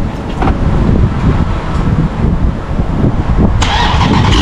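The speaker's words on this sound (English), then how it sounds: "I'm gonna give y'all boys a cold start." A Dodge Charger Scat Pack Widebody, still warm from a recent drive, cranks and fires up close by, its engine rumbling loudly and steadily with a brighter burst of revs near the end.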